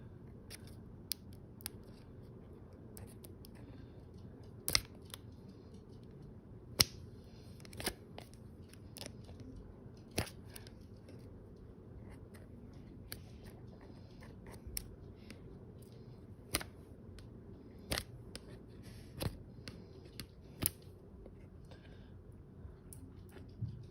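Scissors cut at tripod packaging, giving sparse, sharp snips and crunchy clicks scattered over a quiet room tone, faint and irregular, with no voices.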